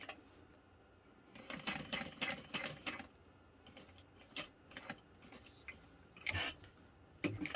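A sewing machine top-stitches a backpack in short, rapid clattering runs broken by brief pauses, close and fairly quiet. No one speaks over it.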